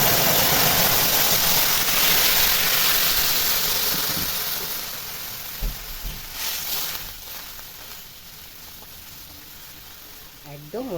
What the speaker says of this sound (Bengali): এর ভিতরে এবার আমি ঝোলটাকে ঢেলে দেব।